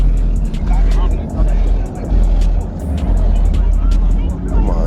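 A car engine revs loudly at an outdoor car show, a deep steady rumble with bursts of throttle, while people talk nearby over the noise.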